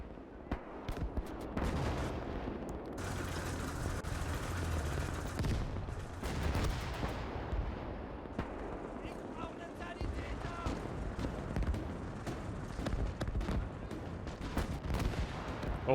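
Sustained gunfire and artillery bombardment rage in a Gates of Hell battle, with dense, continuous bursts and heavy booms pounding a defensive line as rockets strike near positions and Panzer IV tanks.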